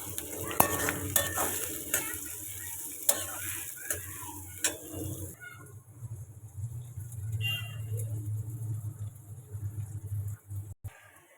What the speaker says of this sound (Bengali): তো সবগুলোকে আবার আমি ভেজে নিচ্ছি কিছুটা পরিমাণ নরম হওয়া পর্যন্ত।